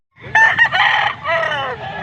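A rooster crows loudly up close at a chicken market in Bocaue, a drawn-out strained call, with other fowl clucking faintly around it.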